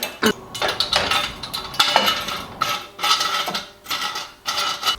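A metal axle stand is handled beneath a Ford Sapphire Cosworth, giving a series of close, sharp clanks and ratcheting clicks in uneven bursts.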